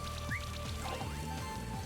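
Acid rain attack effect from the video game Monster Sanctuary, a faint, brief bubbling and dripping patter of synthesized droplets lasting under two seconds, low in level.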